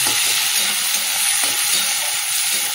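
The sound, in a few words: onion frying in oil with black cumin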